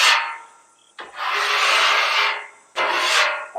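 Metal scraper rubbing across a flat-top griddle to clear leftover taco seasoning, three close, loud rasping strokes with brief pauses between them.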